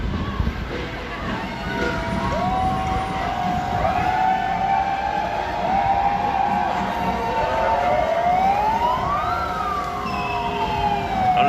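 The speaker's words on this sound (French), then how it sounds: "la sirène que vous entendez, c'est pas la police, là c'est des mégaphones des militants" Wailing siren from activists' megaphones at a street protest, rising and falling tones carrying over a loud, dense crowd hubbub with traffic-like rumble, sustained throughout.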